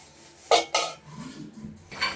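A metal lid set onto a pot of vegetables simmering over medium heat gives two close, sharp clanks followed by a softer knock, with faint bubbling between.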